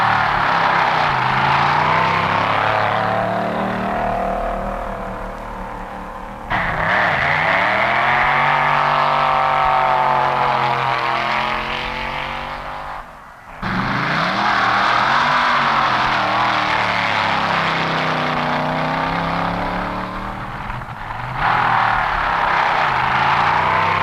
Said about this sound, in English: Right now, time trials are being run, the pre-competition shakedown runs for cars and drivers.